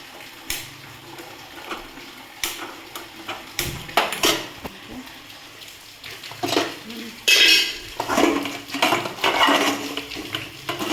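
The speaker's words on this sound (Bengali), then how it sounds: "কড়া চাপিয়ে দিলাম।" A wok is set down on the stove amid clanking pots and utensils, with several sharp metallic knocks and scrapes and a busier cluster of clatter near the end, close and fairly loud.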